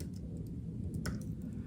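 Quick light clicks of typing on a computer keyboard, a short run of soft keystrokes with one sharper tap, close and quiet with no voices.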